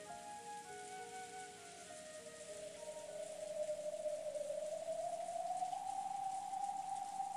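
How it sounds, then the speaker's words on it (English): Steady rain beats down in a visual novel game scene, a continuous hiss that swells slightly louder partway through while a rising tonal drone sits beneath it. "the cold rain still beating down on him"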